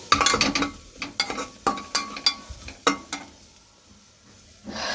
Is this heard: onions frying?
yes